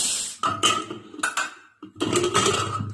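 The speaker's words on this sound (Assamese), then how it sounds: "কুকাৰৰ লিডটো খুলি দিয়া" Metal clanks and scrapes as a pressure cooker lid is handled and lifted, a few sharp clatters separated by short pauses, close by.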